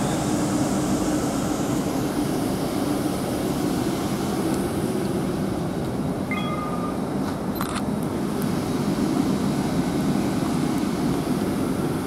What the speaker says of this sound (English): 800 307, departs Oxford for Hereford.